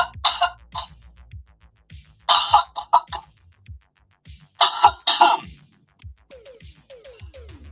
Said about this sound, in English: let me pick my microphone off and cough for a second